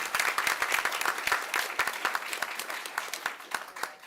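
Audience at a Cuyahoga Falls City Schools board of education meeting applauding staff members, a steady patter of many hands clapping at moderate level throughout, thinning slightly toward the end.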